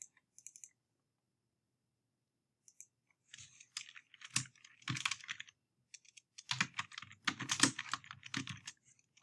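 Typing on a computer keyboard in short, irregular bursts of close, crisp key clicks separated by quiet pauses, with no talking.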